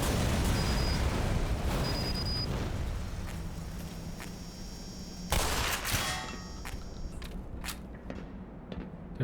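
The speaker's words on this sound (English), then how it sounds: "There are turrets." Automated turrets firing in the video game Black Mesa: sustained rapid bursts of gunfire, with a louder, sharper volley partway through, then continuing shots against a steady game background.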